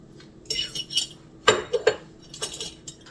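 Spoon stirring and beating sugar in a mixing bowl for vegan snickerdoodle dough, light clinks and scrapes of metal on the bowl in a few uneven strokes, close and fairly quiet.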